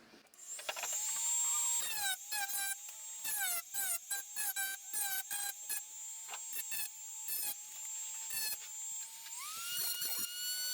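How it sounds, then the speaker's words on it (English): A small rotary sanding tool smooths cut edges on a plastic cartridge case for a Raspberry Pi 3B Genesis build, whining at high pitch with bursts of gritty grinding as it touches and lifts off the plastic. "now to clean up my cuts with the sanding."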